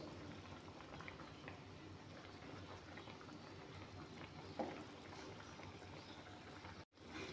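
Moringa leaf and fish curry bubbling away in a pot, a steady close simmer of small pops and gurgles running evenly throughout, with one brief sharper clink partway and a short dropout near the end.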